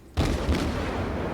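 Cruiser gun batteries of a Hashidate class ship firing in World of Warships, a sudden heavy boom after brief quiet, then a sustained rumbling roar of close gunfire.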